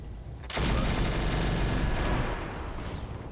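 A heavy mech in a combat video game fires its weapons: a sudden loud barrage starts about half a second in and roars steadily for nearly two seconds, then trails off into lower rumbling. No voices.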